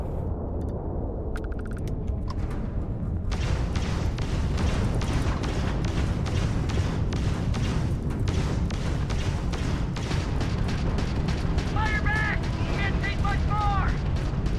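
A missile launches and explodes in Starfield, a roaring, rumbling blast with a string of sharp impacts and crackling debris that persists loudly, while someone talks over it.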